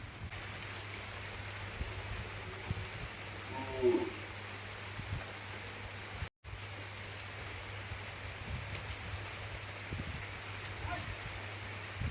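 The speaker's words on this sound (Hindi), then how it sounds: "अचानक से बारिश शुरू हो जाती है।" Steady rain falling outdoors in a village, a continuous even hiss with a faint low hum beneath and a brief dropout midway, with no voices.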